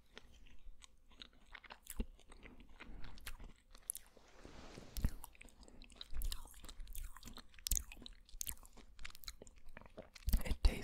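Close mouth sounds of someone eating licorice-flavored ice cream: soft, irregular chewing, smacking and small crunchy bites, quiet and intimate, with no talk.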